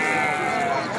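A lamb bleats at a livestock market, one loud, close, wavering cry held for about a second, with market chatter underneath.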